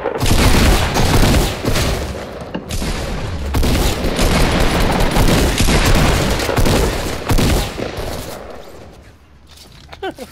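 Dense, loud Fortnite gunfire, a continuous barrage of shots and booms that fills the stretch before fading out near the end.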